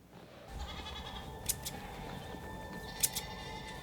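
Goat bleating in the TV show Severance, a moderately faint, fairly steady call over low background noise, with a few sharp clicks partway through.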